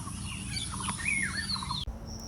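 Birds call in the morning behind a rural house near flooded fields and banana trees, with a run of clear, sweeping, warbling notes at moderate distance that ends abruptly, leaving a quieter hiss and one faint high tone.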